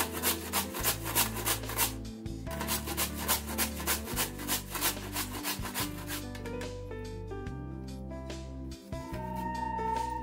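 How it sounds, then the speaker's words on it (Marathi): A whole amla (Indian gooseberry) rubbed against a grater: steady, rhythmic rasping strokes, close and repetitive, over a constant low background tone. "हे बघा किस असा पूर्ण आवळ्याचा असा किस करून घेते सगळ्या आवळ्याचा"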